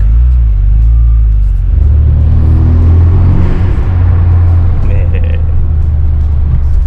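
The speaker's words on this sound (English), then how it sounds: "I love how this car sounds." A car with a deep engine rumble drives along a road on a weekend trip, with low, loud, continuous engine drone that swells as it accelerates, heard from inside the cabin.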